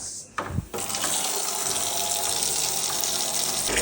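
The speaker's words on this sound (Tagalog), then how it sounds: "Lagyan mo na yung tubig guys." Tap water gushes into a basin for a laundry fabric-softener rinse, a loud, steady splashing rush after a brief clatter at the start.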